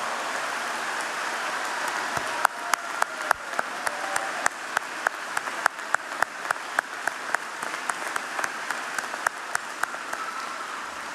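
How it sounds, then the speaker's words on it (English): A commencement audience applauds graduates, a steady wash of many hands clapping at a moderate distance, punctuated by sharper individual claps that stand out irregularly, with no talking. "Let's have a round of applause."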